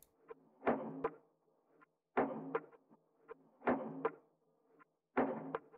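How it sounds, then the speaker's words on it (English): Percussive loop slowed to tempo and dropped an octave for an ambient track: four heavy, resonant thuds in a steady repeating pattern, each with a smeared low tail and smaller clicks between, close and alone. "but time stretched it to the BPM and I pitched it down a whole octave"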